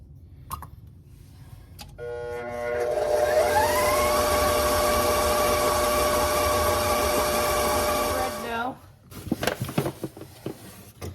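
A KitchenAid stand mixer churning gingerbread dough: the motor whirs up after a few seconds, holds a loud steady hum, then winds down and stops, followed by a few clattering knocks.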